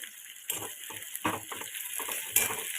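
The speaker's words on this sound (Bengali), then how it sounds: "পেঁয়াজ বেরেস্তা বাড়ানোর সময় তেলটাকে বেশ ভালো করে গরম হতে দিতে হবে" Sliced onions sizzle and crackle steadily in well-heated oil over a high flame, with a few louder bursts as they are stirred, close by and without talk.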